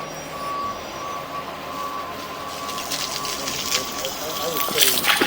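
A truck's reversing alarm beeps steadily in a street with a rain drain, a thin, even tone under rushing and spraying water while people talk nearby.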